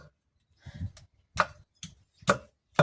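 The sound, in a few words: pounding ginger garlic paste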